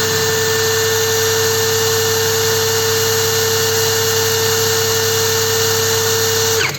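A DRIVAK ED002 cordless screwdriver whines steadily at full speed with a constant high motor tone for several seconds, then cuts off abruptly, close and loud with no talking.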